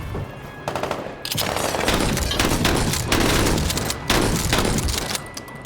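Shotgun and automatic gunfire in a video game as charging enemies are met, dense bursts of loud, close shots in rapid clusters with brief gaps between volleys.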